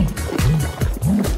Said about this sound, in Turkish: Hadi üflemeye başlayalım. Daha da iyisi güzelce daldırın.